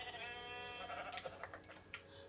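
Minecraft sheep give a few short bleats, close and clear over a quiet game background, with no talk over them.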